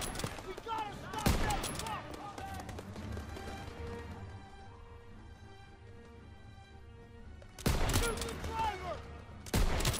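Bursts of World War II-era gunfire in Call of Duty WW2, a loud volley at the start and again near the end, with scattered shots and battle noise continuing more quietly in between.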